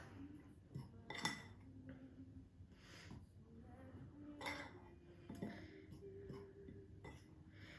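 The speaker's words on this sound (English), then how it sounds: "And then you can just mix that around a bit with the fork." A fork stirs orange zest into flour and baking powder in a bowl for Christmas crinkle biscuits, giving soft scraping with a few light clinks against the bowl, close and quiet, while a voice talks over it.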